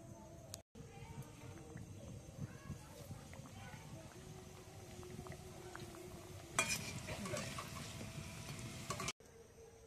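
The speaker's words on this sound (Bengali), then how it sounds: "বাকিগুলো ভেজে নেব।" Crispy singara, Bengali samosas, fry in hot oil in a home kitchen with a soft, steady sizzle and occasional stirring and utensil clatter, swelling louder for a few seconds near the end.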